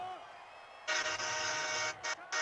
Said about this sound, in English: Loving to hear the train horns.